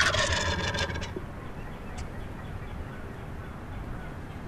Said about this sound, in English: these turkeys are coming from our right to our left